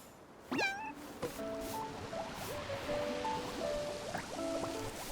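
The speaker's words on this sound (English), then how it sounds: "I will care when I start grooming this hard-to-catch cat." A cat gives one clear rising meow in the video game Infinity Nikki, followed by soft plinking game music and gentle watery ambience, with no voices.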